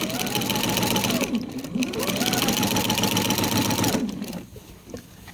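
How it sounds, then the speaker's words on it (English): A sewing machine stitches a seam down the middle of a scrap-built quilt border, its fast, even whirring running loud and close for about four seconds before slowing and stopping. "So I'm just going to sew down the middle here."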